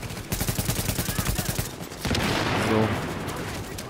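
Rapid automatic gunfire in the shooter Tom Clancy's The Division, starting as a fast, evenly spaced burst of loud shots and then turning into a denser roar of overlapping fire from several directions.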